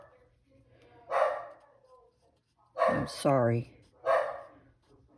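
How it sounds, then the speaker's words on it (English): An excited house dog barks indoors in a few separate bursts, fairly near, with a voice speaking briefly between them. "That's my dog."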